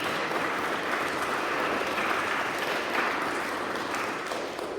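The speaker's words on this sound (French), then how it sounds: "On vous applaudit." A church congregation applauds the newly confirmed members at an Advent Sunday confirmation service, dense sustained clapping filling the room for several seconds with nobody speaking over it.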